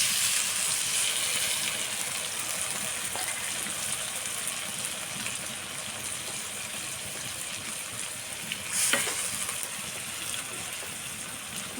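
Garlic paste, onion paste, turmeric and chili powder fry with fried onions in a pan, giving a steady, close sizzling hiss throughout, with a brief louder splash of sizzle near the end.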